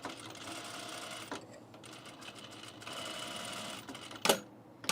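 A sewing machine stitches binding onto an unlined blazer in steady whirring runs, pausing in between, with a couple of sharp mechanical clicks near the end; fairly quiet and close.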